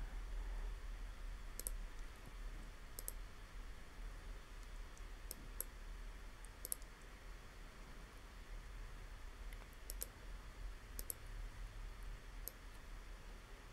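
Computer mouse clicks sound on a Windows PC while using rocket design software, faint, sharp single and double clicks spaced out over a quiet hiss.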